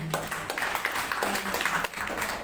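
A small church congregation at a year-end Holy Communion service gives a brief scattered round of hand clapping, fairly faint and uneven, with some murmuring voices mixed in.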